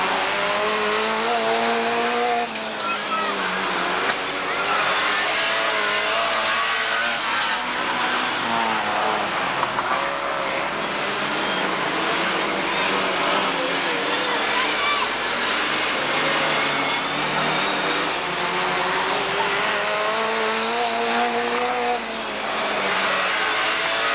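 Front-wheel drive hot rods race around a track at a 1991 Braintree Auto Club meeting, their engines giving a continuous loud roar with rising and falling pitch as cars pass close by.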